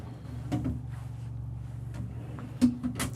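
Drawers being pulled open one after another in a 2025 Renegade Valencia 36SB Super C motorhome: a few brief sliding clunks over a low steady hum, with a sharper knock near the end.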